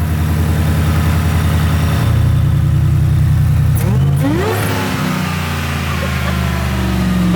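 A Ford F-150 race truck engine idles loudly and rumbles, then revs up sharply with a rising roar before settling back, close and dominant throughout.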